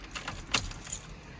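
Two sets of keys for a 2021 Ford F600 mechanics truck jangle close by in short metallic bursts, with one sharper clink in the middle and no talk.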